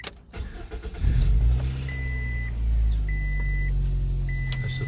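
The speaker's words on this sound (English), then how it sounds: "So I'll go ahead and start my car." A car with a stock battery cranks and fires up, then idles steadily and loudly up close, with short, thin squealing tones from a wet drive belt cutting in at intervals over the engine.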